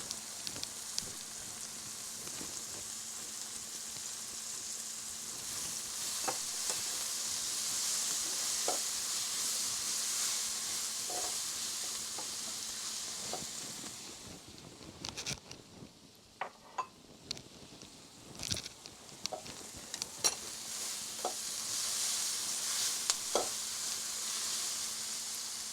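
Ginger garlic paste fries in a pan with a soft, steady sizzle and intermittent stirring scrapes, fairly quiet and close, with no voices.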